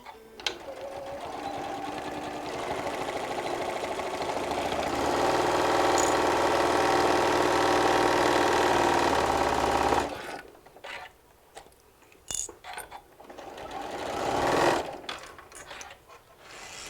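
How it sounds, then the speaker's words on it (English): Sewing machine back tacking a stress seam on a walker bag, a steady rapid stitching rattle that grows louder for about ten seconds, then stops, followed by fabric handling noises and a brief final burst of stitching. "I'm going to do a good back tack here because you put a lot of stress on that seam"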